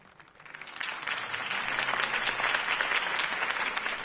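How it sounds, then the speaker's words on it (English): Applause from a crowd swells up quickly and holds steady, dense clapping filling the space with no voices over it. "could have heard that applause"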